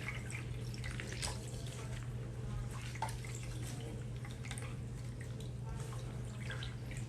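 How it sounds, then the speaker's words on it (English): Water drips and trickles from a freshly wrung-out tie-dyed hoodie, scattered soft droplets and splashes over a faint steady hum, quiet and close with no talking. "So just wring some out."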